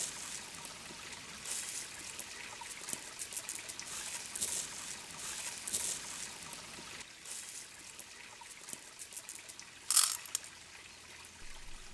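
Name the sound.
water from a stream being filtered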